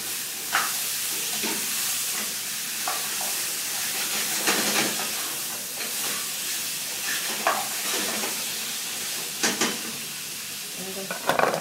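Food cooking in a pot on a stove, a continuous sizzling hiss with scattered clinks and scrapes of a spoon stirring, close and steady, without talking.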